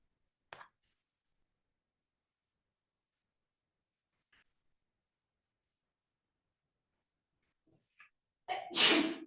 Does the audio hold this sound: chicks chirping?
no